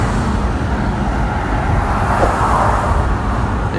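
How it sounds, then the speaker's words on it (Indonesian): Dense, slow-moving road traffic on a main route in Yogyakarta, with a continuous low rumble of engines, cars and motorbikes that stays loud and steady throughout, and no voices. "Hingga lalu lintas padat merayap"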